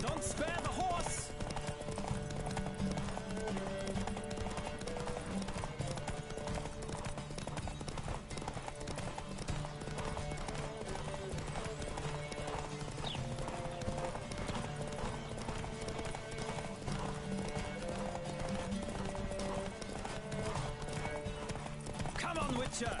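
Rhythmic clip-clop of a galloping horse during a race in the video game The Witcher 3, steady and close throughout, layered over continuous game music and ambience with occasional neighs and shouted voices.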